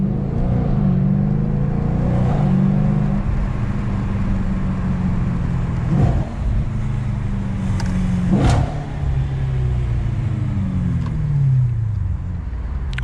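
An Audi RS5 with a 4.2L V8 is driven at night, its engine droning loud and steady with repeated revs rising and falling, and a couple of sharp transient pops along the way.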